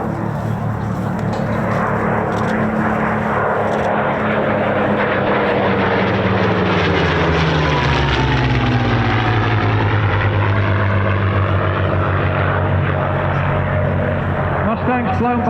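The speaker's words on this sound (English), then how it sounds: "coming in from your right, the battle formation, Mustangs and Messerschmitts" Mustang and Messerschmitt warplanes flying in battle formation at an airshow, their piston engines droning loudly and steadily, with a pitch sweep as the aircraft pass overhead and a commentator's voice over the public address.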